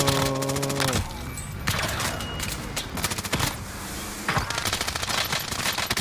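Rapid automatic gunfire in the online shooter Warzone, with dense bursts and a sustained fusillade through most of the stretch over game effects and music, loud and close.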